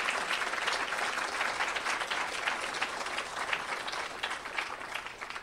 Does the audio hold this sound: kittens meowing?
no